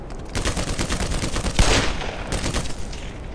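Sustained enemy gunfire in Black Mesa: Xen, rapid shots crackling steadily from below across the whole stretch, with a louder burst near the middle and no talk.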